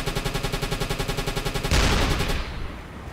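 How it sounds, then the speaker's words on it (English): Rapid machine-gun fire in the UBOAT submarine video game rattles in a fast, even burst, then gives way to a louder roaring blast that slowly fades, with no talking. "Somebody's shooting at it."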